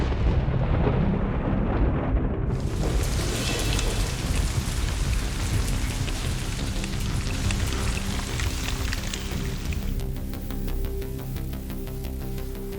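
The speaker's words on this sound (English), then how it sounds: "Rain's coming, it's Friday, so it's all about tarping now" Steady, dense rain pours over a house with a back porch, a broad continuous hiss that swells fuller after the first few seconds and holds loud and close throughout, with no voices.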